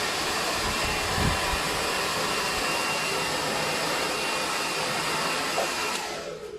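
A hair dryer blows steadily while drying a man's hair on low heat, a loud constant close-up whoosh that holds for several seconds before easing off at the end, with no talking.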